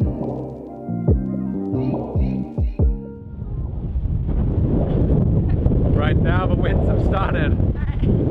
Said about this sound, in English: I think it's as windy as it's gonna get now.